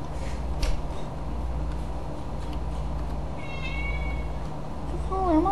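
A house cat meows a few times close to the microphone, rising toward the end of the clip, over a low steady room hum with faint background game sound.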